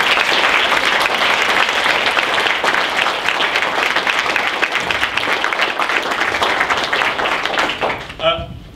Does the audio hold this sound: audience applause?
yes